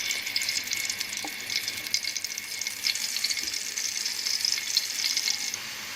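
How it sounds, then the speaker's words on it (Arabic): Garlic fries in a little oil in a pan, giving a steady, bright sizzle that holds evenly throughout with a couple of faint low knocks. "عندنا التوم وهنزل بشوية زيت"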